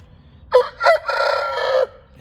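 A fighting rooster crows once, loud and close: two short opening notes followed by a long sustained call lasting over a second, with a quiet background.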